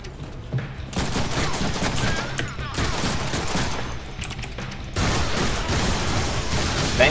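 Rapid bursts of gunfire in the Deadpool video game, loud and close, in dense repeated volleys with short gaps.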